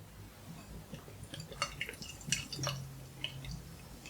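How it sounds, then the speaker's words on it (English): Tiny Rebel Holy Hand Grenade beer being poured into a glass, a quiet run of gurgling, dripping and fizzing splashes that builds toward the middle and then trails off into scattered drips. "And let's pour the Holy Hand Grenade."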